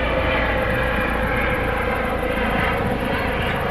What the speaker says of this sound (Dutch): Terwijl er een helikopter voorbij komt.